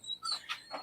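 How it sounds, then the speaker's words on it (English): A dog whines in short high-pitched whimpers, three or four thin cries in quick succession. They are faint and in the background, with no speech over them. "I'm sorry about the dog whining in the background."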